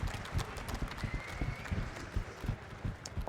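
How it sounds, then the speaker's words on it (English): A horse in the Age of Conan video game delivers a rear kick, heard as a rapid run of hoof clip-clops and thumps, loud and close, with no talk over it. "You can tell your horse to kick behind you."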